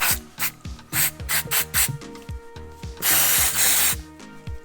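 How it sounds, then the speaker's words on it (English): Electronic cleaner is sprayed onto the headlight contacts of a Ford Econoline van, a long hissing burst of spray heard close up, with quick scraping and rubbing sounds before it. "Rinse out with some electronic cleaner."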